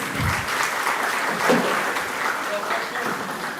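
A crowd at a Divali dinner and cultural event in Mayaro applauds, with steady clapping filling the room and voices mixed in underneath.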